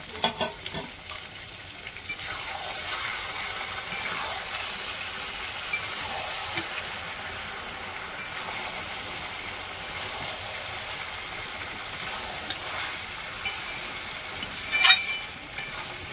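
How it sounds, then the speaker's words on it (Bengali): Meat sizzling and being stirred in a hot pan during kosha, a steady crackling fry with occasional scraping stir strokes, close and moderately loud, no talking. "এখন কষানো চলছে"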